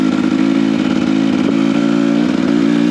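A freshly built 2024 KTM 250XCW two-stroke dirt bike being run in on trails, its engine droning loud and steady at close range with rattling chassis clatter and no voices.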